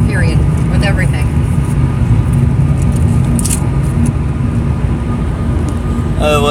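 A car engine revs and races in the mobile game CSR 2, a steady loud drone with rising whine sweeps near the start and end, while people talk over it.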